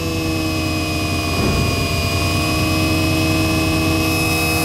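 A multi-strand bucking generator coil test rig runs at lowered RPM, giving a steady, loud droning hum with sustained electrical tones and no breaks.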